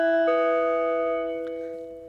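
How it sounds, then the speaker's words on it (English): A short chime used as the attention sound effect in the Anchor podcast app, a bright sustained tone that rings clearly and fades gradually over about two seconds. "And let's listen at the attention sound."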